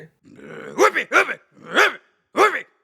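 A voice imitates a dog barking, giving a rising growl followed by four loud, sharp woofs spaced roughly half a second apart, with no real animal present.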